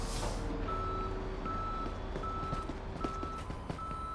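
Tow truck reversing beeps repeat at a steady rhythm in the Police Simulator game, with a low truck engine rumbling underneath and a few clunks near the end.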